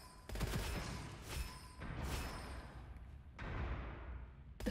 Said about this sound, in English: They've set off a chain of explosions.